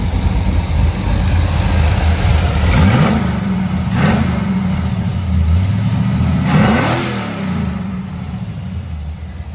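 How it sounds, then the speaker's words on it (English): A tuned-up car engine with a Holley 650 carburetor, floats adjusted and idle set, idles loudly and is blipped in three quick revs that rise and fall before settling back to a steady idle. "Got his car tuned up pretty good, adjusted his floats and set his idle."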